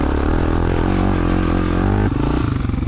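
Honda XR400 motorcycle engine idling in first gear while climbing uphill, a steady loud low thrum that continues unbroken, shifting slightly in tone near the end.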